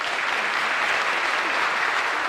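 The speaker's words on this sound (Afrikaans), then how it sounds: "So ek wil julle moet weer hande klap vir haar." Steady, dense applause from a church audience at a Dutch Reformed congregation in Parys after a girl's singing performance, filling the room evenly with no talk over it.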